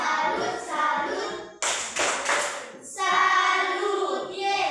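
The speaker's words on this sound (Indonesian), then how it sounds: "Oke, tepuk salut dulu untuk kelompok 1." A classroom group breaks into a short burst of rhythmic clapping as a cheer for classmates, sandwiched between stretches of people talking; the claps come as a dense, loud cluster in the middle.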